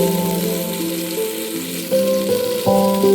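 Tomato, chopped ginger and green chili fry in a pan for a stuffed potato dish, giving a soft, continuous sizzle that grows a little louder as each addition goes in, under prominent background music.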